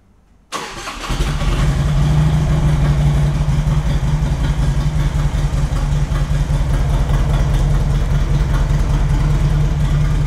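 A Harley-Davidson motorcycle engine cranks and catches, then settles into a steady, loud, close idle around 1100 RPM with a deep, even rumble that continues alone to the end.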